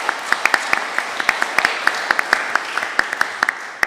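A small conference audience at a beef industry expo claps to welcome a speaker, with sparse, distinct individual claps ringing out at an uneven rhythm rather than a dense roar.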